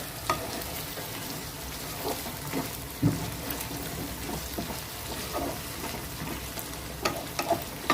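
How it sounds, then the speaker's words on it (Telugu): Mutton pieces tossed into a hot pan for a mutton and raw mango curry, sizzling and frying steadily while being stirred, with a few sharper clatters of the spoon against the pan. "మటన్ వేసేసుకుందాం. వేసుకుని ఒకసారి తిప్పుకుందాం."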